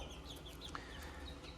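Chickens in a basement brooder, a batch of young birds from a hatchery, make soft scattered clucks and chirps over a steady low background hum, with one brief sharper peep midway.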